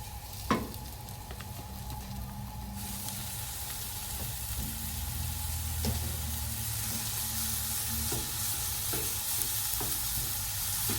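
A spicy paste with spices sizzles and hisses in a hot pan, a continuous close frying sound broken by occasional scraping stirs and a sharp clink near the start.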